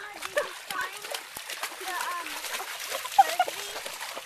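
A dog plunging into water after a frisbee, with scattered splashes and sloshing under ongoing chatter and excited calls from people nearby.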